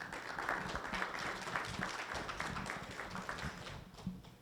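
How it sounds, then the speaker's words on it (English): Audience applause at a self-storage business talk, a fairly faint, even patter of clapping hands sustained throughout. "Let's give Val another round of applause"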